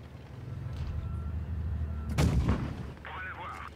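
A tank cannon fires in World of Tanks Blitz from an AMX M4 mle. 54, one sharp, heavy boom that rolls off over a low engine rumble, followed by brief game effects.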